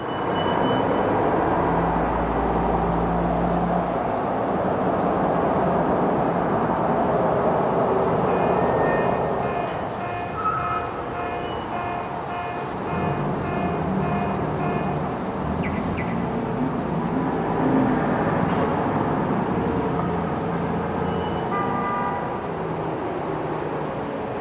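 Street ambience in the skate. video game: a steady, dense wash of city traffic rumble with a few faint tonal chirps and distant passing sounds, no talk.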